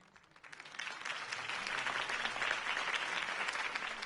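Crowd applause follows a campaign speech in the Batman Telltale Series game on PS4, starting faint and swelling within a second into sustained, even clapping from a large crowd.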